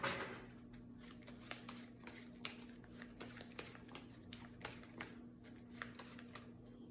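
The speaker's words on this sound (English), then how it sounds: "we shuffle the player deck here, or this card pile into our deck" A deck of playing cards being shuffled during a solo game of the Marvel Champions card game, soft riffling and tapping close up, quiet and steady with no voices.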